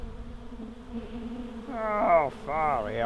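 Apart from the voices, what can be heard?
honey bees buzzing around fridge hive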